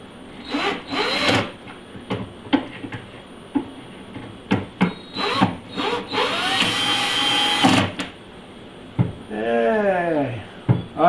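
A power drill drives wood screws into a kitchen cabinet at low torque during a stove vent install, giving short whirring bursts with clicks and clunks of handling in between, close and fairly loud, with brief speech-like sounds near the end.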